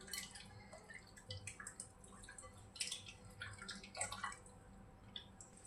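Water splashes and drips in a sink or bowl as pork ribs coated in cornstarch are washed by hand, with faint, irregular trickles and sloshes close by.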